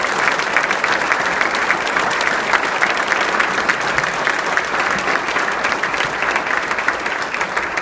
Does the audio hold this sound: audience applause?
yes